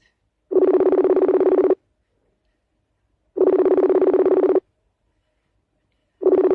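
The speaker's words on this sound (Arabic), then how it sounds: "نتصل عليه مرة ثالثة" An outgoing phone call rings out. A steady electronic ringback tone sounds in evenly spaced bursts of about a second with silence between, loud and alone.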